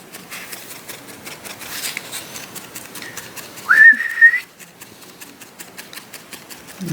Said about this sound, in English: That was a terrible whistle.